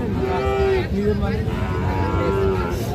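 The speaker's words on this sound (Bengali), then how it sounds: "মাশাআল্লাহ খুবই চমৎকার একটা সার বাছুর" A young Sahiwal bull calf moos repeatedly in drawn-out, low calls, close by, over steady background noise.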